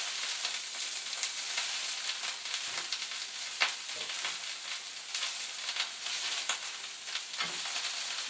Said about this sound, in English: Tossing it in the oil, coating it with that garlicky flavored oil.